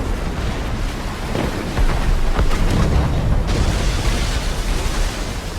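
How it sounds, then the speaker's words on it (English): Deep, rumbling cannon booms from Assassin's Creed Rogue roll through a constant noisy wash, a heavy distant blast swelling midway before settling back into low rumble, fog-bound. "Did you hear that? Cannon fire. Deep within the fog."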